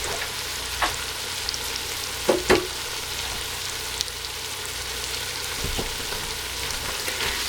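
Tomato paste sizzling in a hot pan over medium heat, a steady crackling fry broken by a few sharp scrapes and knocks of a utensil stirring it into meat, close up with no talking.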